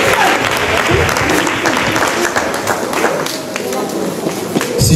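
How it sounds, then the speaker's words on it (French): A church congregation cheers and applauds loudly for the Lord, dense sustained clapping with shouts and voices mixed in throughout. "Est-ce qu'on peut acclamer très fort pour le Seigneur?"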